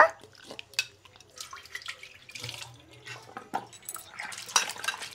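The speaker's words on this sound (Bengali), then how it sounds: "এখন আলুগুলি এরকম করে সুন্দর করে ধুয়ে নেব" Potatoes are washed by hand in water in a home kitchen, with irregular splashes, drips and sloshing punctuated by clinks against a metal pot or bowl, close up and without speech.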